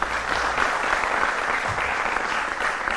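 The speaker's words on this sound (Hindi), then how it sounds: "तालियों के साथ आप उनका स्वागत करें।" A television studio audience at a Hindi news debate show gives steady, dense applause that stays loud and even for about three seconds, with no voices over it.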